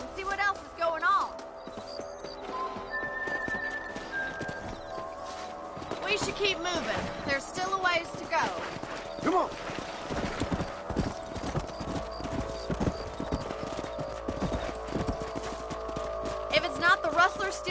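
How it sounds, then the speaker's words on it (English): Horses' hooves clop in a steady, quick rhythm as riders travel in Red Dead Redemption, loud and close, with a voice speaking over the hoofbeats and a faint musical score underneath. "Let's get back on the horses and see what else is going on."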